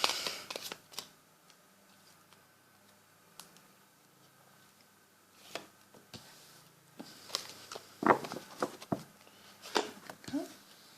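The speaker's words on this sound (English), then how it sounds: "I'll give them a bit more of a shuffle." Tarot cards shuffled by hand at close range, scattered soft slaps and riffles that grow busier toward the end over a quiet background.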